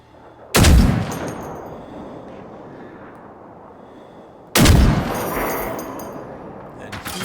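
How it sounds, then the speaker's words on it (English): Gunfire in the robot-fighting video game Generation Zero, set in 1980s Sweden: two loud, close, booming shots about four seconds apart, each with a long rumbling tail, and a voice in between. "now what's shooting at me?"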